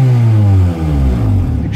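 A car engine idling close up right after starting, a loud low steady rumble that dips briefly and then settles into an even, slightly uneven run.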